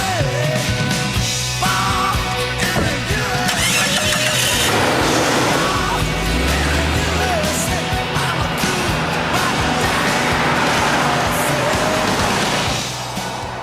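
A 1997 Jeep Cherokee engine cranks and fires, then idles and revs with a mid-pitched rumble, loud and close, carrying on steadily over the whole stretch.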